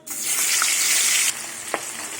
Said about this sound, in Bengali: এবার তেল গরম হয়ে গেছে এবার মাছের মাথাগুলো ভেজে নেবে